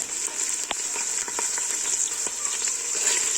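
Tomato paste sautéing with cooked meat and onions in a pan, a steady bright sizzle with scattered crackles and soft stirring taps close up.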